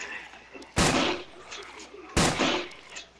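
Two loud, sharp shotgun blasts about a second and a half apart in the video game Survive The Nights, each with a short decaying tail, set against quiet game background.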